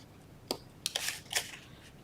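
Scissors snipping along the score line of a folded paper box, a few short crisp cuts close up and fairly quiet, with brief paper rustles between them.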